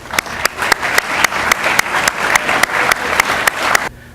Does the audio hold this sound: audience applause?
yes